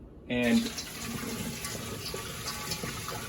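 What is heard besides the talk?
hot water poured over vegetables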